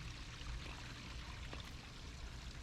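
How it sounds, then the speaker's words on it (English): Kitchen sink greywater pours steadily out of an RV holding tank in a continuous, rushing gush with a hollow splashing quality, close by and unbroken throughout. "So that's all our kitchen sink water."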